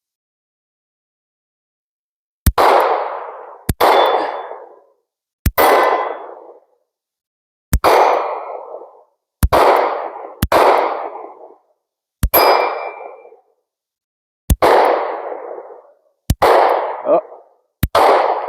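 Ten sharp pistol shots from a SCCY CPX-2 or Sig P365 compact handgun, fired at a steady quick pace about one to two seconds apart, each a loud crack with a short ringing decay, and a brief exclamation near the end.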